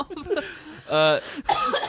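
A short cough bursts out between stretches of people talking and laughing, close and fairly loud.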